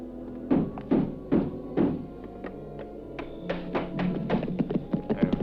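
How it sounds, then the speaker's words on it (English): Men in a western film try to break a door down with a series of heavy thuds and knocks, followed by a faster cluster of rapid taps and bangs at close range. "boys, break the door down."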